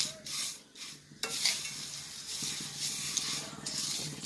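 Sago and vermicelli roasting in ghee for payasam while being stirred, with a low sizzle broken by spatula scrapes and light clatters against the pan, fairly faint, no voices.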